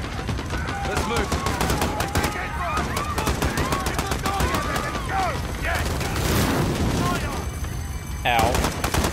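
Intense gunfire in Call of Duty: Modern Warfare at Piccadilly Circus, with continuous rapid automatic bursts, mechanical clatter and chaotic shouting voices mixed throughout, ending with a rising whine.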